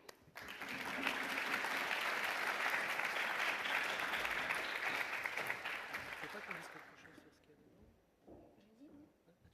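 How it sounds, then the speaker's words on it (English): An audience at an agrifood innovation award ceremony claps for the team from Syria, a dense burst of applause lasting several seconds before fading away, with faint voices afterward. "A big, big clap, please, for the team from Syria."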